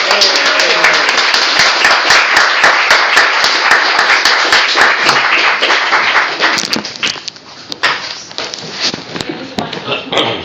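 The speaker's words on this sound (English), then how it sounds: "give a big round of applause and big cheer for Aliette De Bodard" Applause and cheers for Aliette De Bodard from an audience at the BSFA 2016 event, with loud sustained clapping that thins into scattered claps toward the end.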